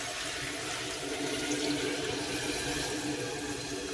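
Water runs steadily into a cooking pot of goat head curry, a soft, continuous pouring and splashing that stays even throughout, with no voices.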